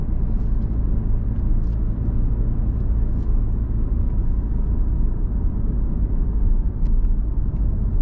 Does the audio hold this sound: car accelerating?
yes